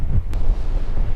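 Strong wind buffets the microphone on a winter hike up Mam Tor from Castleton, a steady low rumble with gusty bursts and no talk.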